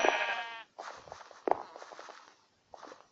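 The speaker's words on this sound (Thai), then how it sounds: "เพราะว่าแกะมันกระโดดไม่ได้ขนาดนี้หรอก" Sheep bleat on a sheep farm in a video game: one clear bleat opens, then soft thuds like hooves or footsteps, with a few fainter bleats following in short bursts.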